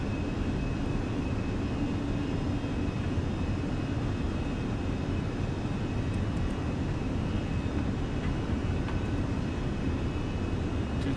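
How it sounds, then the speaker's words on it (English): Steady, loud jet engine roar of an Airbus A320 at climb thrust in a flight simulator, a continuous broadband rumble with a faint tonal whine running unbroken throughout, no talking. "Climb thrust set."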